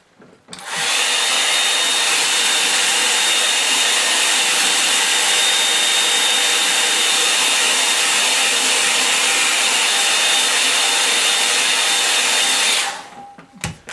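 A hair dryer runs continuously for about twelve seconds, drying a watercolour lake painting; a loud, steady whirring rush that starts abruptly and cuts off near the end, with no talking.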